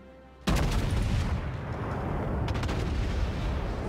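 A warship's heavy guns fire in the naval battle game World of Warships: a sudden, loud blast that rolls out into a long, booming roar and echoes for several seconds, with no talking.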